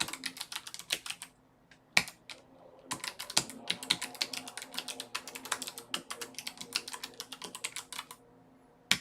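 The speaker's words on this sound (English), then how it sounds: "So just type in my stuff." Fingers type on a computer keyboard in quick, uneven runs of light clicking keystrokes. Short pauses and a few sharper key hits break the runs, all close and quiet with no voices.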